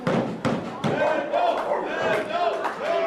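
A wrestling crowd roars and yells in support of Mad Dog, a loud continuous swell of cheering voices with sharp thuds from the ring cutting through at intervals.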